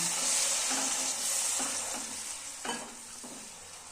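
Water poured into a pan of frying tilapia curry masala sets off a sustained hiss and sizzle, with a few brief stirring scrapes as the sound settles.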